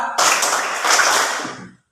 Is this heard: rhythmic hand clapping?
yes